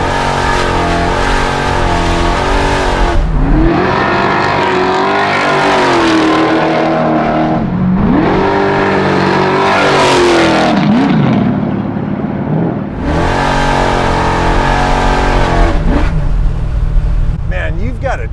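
An 850hp Chevelle drag car revs hard and accelerates, loud and close, its engine note rising and falling in several long surges with brief let-offs between, while voices talk over it.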